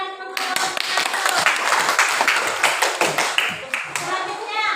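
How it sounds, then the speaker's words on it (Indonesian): Classroom group of students clapping for group 1 after a discussion, dense overlapping handclaps that swell quickly and keep going steadily, with a voice talking over them. "tepuk tangan lagi untuk kelompok 1"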